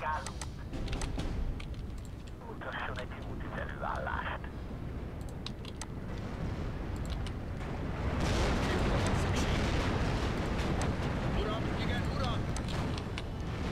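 Battlefield gunfire and artillery in Steel Division 2: a dense, continuous roar of rumbling blasts and crackling shots, swelling louder in the second half, with voices talking over it.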